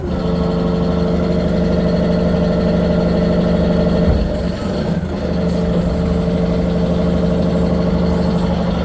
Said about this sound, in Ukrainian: можна додати газу, щоб швидше підіймав.